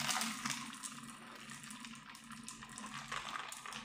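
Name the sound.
water being poured into a Prime drink bottle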